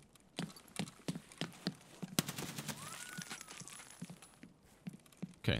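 Gunfire in the video game Escape from Tarkov (SPT) cracks out as a rapid series of sharp, fairly distant shots at an irregular rhythm, heard alone and moderately faint with a brief louder burst near the end.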